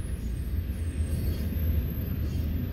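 A short Norfolk Southern intermodal freight train rumbles low and continuously as it begins to move, with a faint high squeal above a steady, close-by roll.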